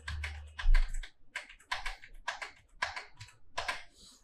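Fingers typing numbers on a computer keyboard, a quick run of close, crisp key clicks in uneven bursts, fairly quiet and heard alone without talk.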